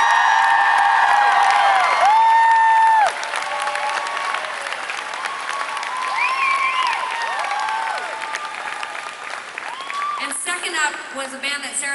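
Concert crowd at Hammerstein Ballroom applauds and cheers for the opening band, a dense sustained roar of clapping with whoops and high shouts, loud throughout and thinning slightly after the first few seconds.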